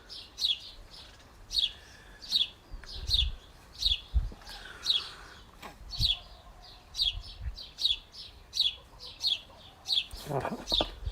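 Birds call outdoors near backyard hens. Short, sharp chirps repeat at a steady pace of about one every second, with soft thumps and a brief rustle in the background.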